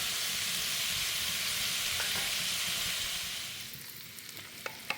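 Tropeiro with chopped grilled ribs frying slowly in a pan, a dense steady sizzle that fades toward the end, leaving a few scattered pops and clinks.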